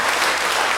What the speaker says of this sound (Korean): 박수로 환영하시고